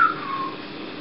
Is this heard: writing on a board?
no